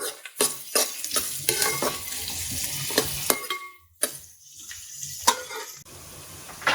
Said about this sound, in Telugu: ఉల్లిపాయలు మగ్గిన తర్వాత పచ్చిమిరపకాయలు ఒక 10 పచ్చిమిరపకాయలు మజ్జిగ చీల్చుకున్నవి యాడ్ చేసుకోండి.